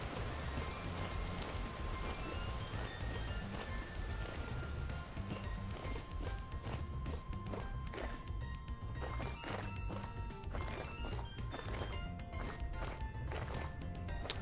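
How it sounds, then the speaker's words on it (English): Steady rainfall in a single-player video game world, a dense, even patter that runs throughout at moderate level, with scattered sharper drops and clicks layered over the wash. "because of all the rain"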